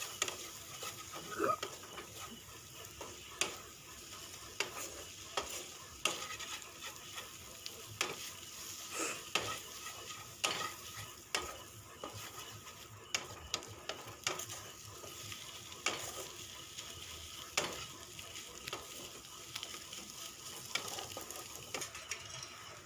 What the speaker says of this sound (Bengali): এর মধ্যে আমি একটা ডিম ভেঙে দিয়ে দিচ্ছি। তো দিয়ে ভালো করে নাড়াচাড়া করব